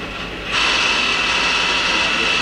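A Hyundai-WIA L400LMC CNC turning center starts its live tool at 500 RPM, a steady machine whir jumping in after half a second into a loud, even whine with a high sustained tone.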